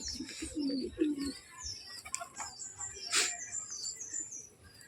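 Rampuri pigeons coo in low, throaty bursts in the first second or so, with scattered chirps and a sharp click later over steady background noise.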